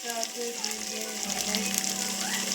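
Mustard seeds and cumin sizzle in hot oil for a tempering, a steady bright frying hiss with faint crackles and a low background hum, close and continuous.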